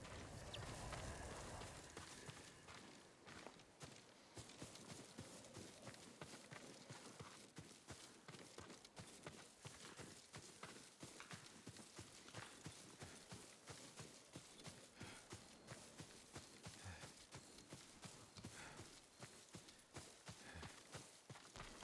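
Horse hooves clip-clop in the game Ghost of Tsushima, a steady, faint walking rhythm of individual hoof strikes continuing throughout, with a brief softer breathy noise at the start.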